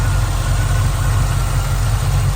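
A 1970 Ford Mustang engine idles steadily with a deep, even rumble, continuous and close, no voices.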